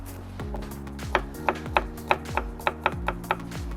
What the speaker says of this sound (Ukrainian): наріжу чесночок